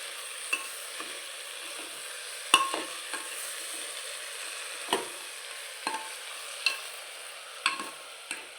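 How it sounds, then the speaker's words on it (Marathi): Spices and rice are stir-fried in a pan, with steady soft sizzling broken by a series of sharp spatula scrapes and clinks at irregular intervals, with no voices. "हे सर्व एक मिनिटभर आपल्याला परतून घ्यायचं आहे"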